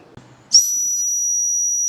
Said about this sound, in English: I can call for help. There is a whistle.